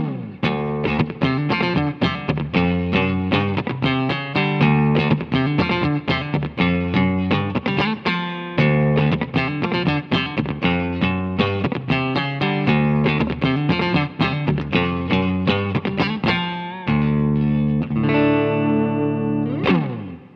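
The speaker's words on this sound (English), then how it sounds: "We'll hear what this sounds like raw just with a touch of spring reverb from the Line 6 HX1" Clean single-coil electric guitar played through a high-headroom, high-wattage amp with a touch of spring reverb from a Line 6 HX unit and no compression, sounding a steady run of loud picked notes and chords with no talking.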